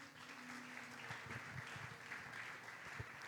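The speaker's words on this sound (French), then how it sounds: "Nous pouvons acclamer la parole du Seigneur." A church congregation claps together in a steady, dense wash of applause, fairly distant and even throughout, with faint voices mixed in.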